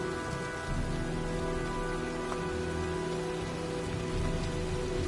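Steady rain pours throughout this storm scene from the PS4 game Heavy Rain, a dense continuous hiss of drops on surfaces with no talk and no clear thunder.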